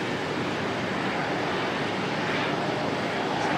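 An aircraft at Auckland Airport taxis with a steady, broad engine roar that stays constant and fairly loud throughout, heard from a distance with no other distinct sounds.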